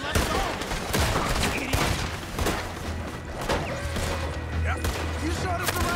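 Gunfire in the video game Red Dead Redemption 2 during a robbery, with a dense fusillade of rapid, close gunshots and booms going on throughout and voices shouting under the shots.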